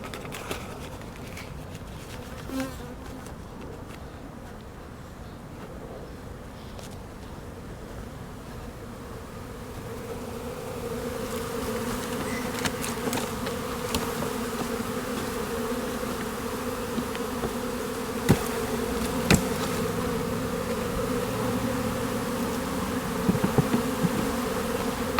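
A honeybee swarm near its hive makes a continuous buzzing drone that grows fuller and louder midway, with a few close wingbeat passes and light knocks, and no talking.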